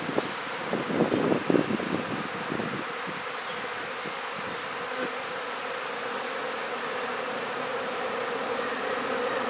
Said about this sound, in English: the bees are starting to congregate a little heavier